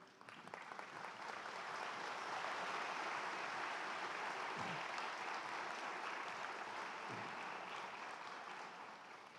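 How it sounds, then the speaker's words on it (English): Sustained audience applause fills a winter commencement ceremony hall, steady and broad from start to finish, fading slightly at the end with no voices over it. "let's give him a round of applause for being with us today"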